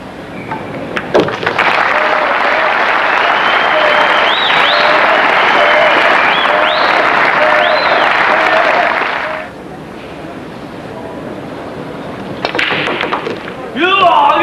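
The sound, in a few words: pool hall crowd applauding a fancy 9-ball shot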